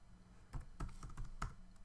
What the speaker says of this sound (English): so if I just type in photo